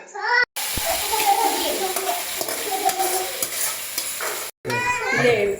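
Marinated chicken going into frying ginger-garlic masala for biryani, a dense close sizzle with stirring scrapes, while someone talks over it at the start and end and a voice is faintly heard.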